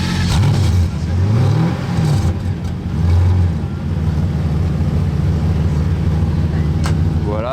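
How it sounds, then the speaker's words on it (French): Pagani Huayra supercar engines running on a snowy lot, loud rumbling revs that swell and fall before settling into a steady idle, with a voice talking over them. "Et là-bas il y a les 2 Wayra qui ont déjà démarré."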